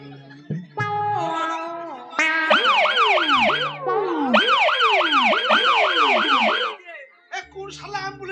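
An ambulance siren wails loud and close in a comic stage play, with rising and falling sweeps repeating steadily for several seconds before it cuts off.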